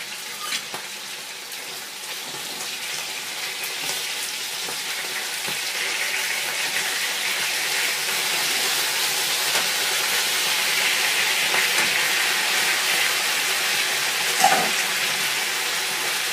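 Sausages fry in a pan with a steady, close sizzle and crackle that grows slightly fuller over time, with a brief pop near the end and no talking.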